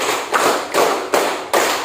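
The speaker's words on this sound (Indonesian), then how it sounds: "Tepuk 1, tepuk 2, tepuk 3, tepuk 4, tepuk 5" A group of children in a classroom clap together in a counted rhythm, four loud, broadband bursts of unison clapping evenly spaced across a couple of seconds, close and with no talk.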